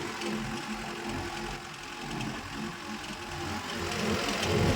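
A Mahindra Yuvo 585 50 hp diesel tractor runs close by with a steady, rough mechanical clatter and drone that holds a fairly even level throughout.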